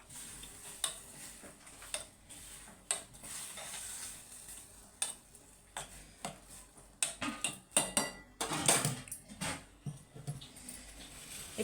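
Leftover chapati payasam stirred in a pot, with irregular spoon scrapes and clinks against the metal, close and moderately quiet, with no voices.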